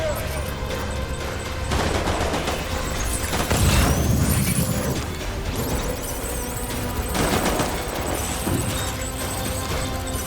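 Gunfire in a battlefield escape in Death Stranding Director's Cut: bursts of shots and clattering impacts roll continuously over a dense, loud game soundscape, with shouting voices mixed in.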